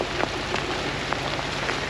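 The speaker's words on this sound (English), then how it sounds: "Hailstorm, rainstorm," Heavy rain with hail pounds steadily on surfaces at a flooded campsite, a dense continuous roar with scattered sharper impacts, close and loud throughout with no voices.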